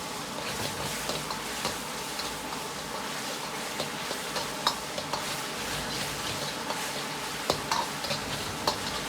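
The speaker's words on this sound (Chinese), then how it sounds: "保持中小火，把酱汁稍微多煸炒下" Sauce stir-frying with ginger and garlic in a wok over medium-low heat, a continuous close sizzle broken by sharp ticks and clacks of a spatula or ladle against the pan.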